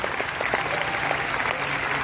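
A theater audience at a musical applauds the director, a dense continuous patter of many hands clapping together at a steady, lively level throughout.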